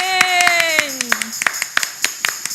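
During an online church prayer meeting, a voice gives way to clapping in a steady rhythm of sharp, distinct hand claps, close and fairly loud, over a lingering musical tone.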